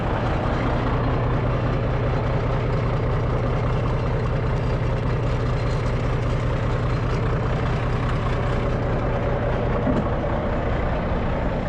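A John Deere 'Johnny Popper' tractor engine runs steadily and loudly up close, a continuous low rumble with no pauses while driving down the road at about 16 miles an hour.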